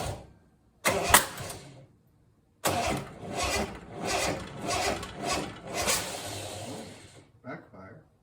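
Triumph TR6 engine on its first start after a rebuild, cranking on the starter in repeated loud, rasping bursts separated by short pauses, with a backfire, and voices talking nearby.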